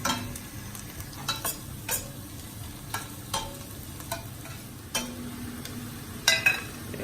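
Red onion and ginger frying in a pan, a low steady sizzle broken by scattered sharp taps and scrapes of a utensil stirring, close by and without speech.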